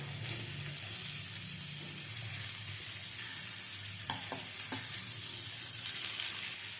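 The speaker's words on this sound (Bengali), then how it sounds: "পেঁপেটা দিয়েও একটু হালকা ভেজে নেব" Papaya pieces lightly frying in a pan, a soft, continuous sizzle at low volume with a few brief clinks of stirring partway through.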